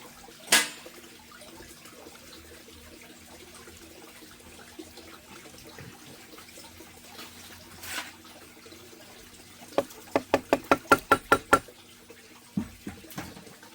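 Creek water trickles steadily over rocks at a gold-mining cleanup, a faint continuous wash broken by a few sharp clicks and splashes near the end.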